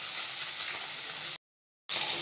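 Fish frying in a pan of oil, a steady close hiss and sizzle that cuts out briefly and then resumes just as strong.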